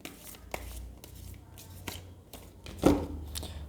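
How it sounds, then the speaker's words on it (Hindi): Tarot cards are shuffled by hand in a few brisk, papery riffling bursts separated by short pauses. The sound is soft and close, with no talk. "थोड़ा सा मैं और शफल कर लेती हूँ जिससे थोड़ा सा डिफरेंट कार्ड आए"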